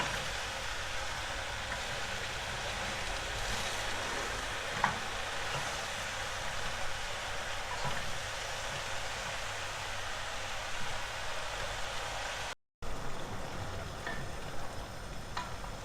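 Mushrooms cook in a pan for a Bulgarian pilaf, giving a steady, even sizzle of frying. A few faint knocks from stirring break through now and then.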